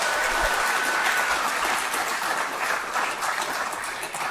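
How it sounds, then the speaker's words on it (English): Audience at a Yale innovation summit giving a big round of applause, a dense, even wash of clapping that holds steady for over four seconds. "Can we give a big round of applause to the Yale Ventures and Innovation Summit team?"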